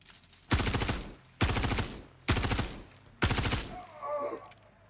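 A P4 gun fires in a video game: four loud, evenly spaced bursts of rapid automatic fire, each lasting about half a second, separated by short pauses, with a faint trailing rattle after the last.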